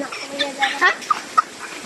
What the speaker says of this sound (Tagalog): Nangayo lang yung manok